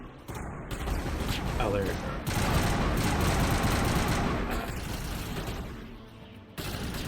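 Assault rifle fire in the Mass Effect video game rattles in dense, continuous bursts with booming impacts, loud throughout, while a player speaks briefly over the shooting.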